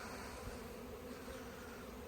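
Honey bees buzz steadily at a beehive during a spring colony inspection, a dense continuous drone up close that holds unchanged throughout, with no voices.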